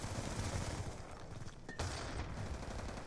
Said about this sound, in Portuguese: O pessoal tá atirando